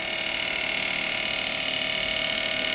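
An MH 500 cotton candy machine runs at maximum power with a steady, quiet, continuous hum and a thin high whine, an even drone that stays constant throughout, with no voices.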